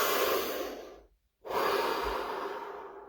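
A slow deep breath, drawn in with a long airy rush, a brief silent hold, then a long exhale, close and alone.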